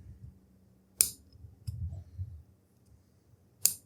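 Wire snipped with cutters during a Neewer CN-160 LED light modification: two sharp, close clicks about two and a half seconds apart, with faint handling rustle between them.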